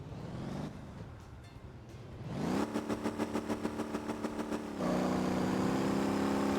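Engine in the Motor Town driving game revs up from a low rumble into a sustained high-pitched roar with rapid rhythmic pulsing during the burnout, then settles into a steady loud drone.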